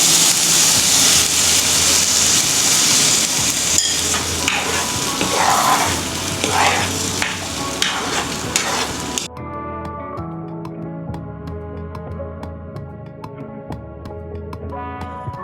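Bitter gourd (ginisang ampalaya) sautéing in a pan, a loud sizzling and frying hiss over the first half, then fading to a quieter crackle under faint background music or tones, with no one talking.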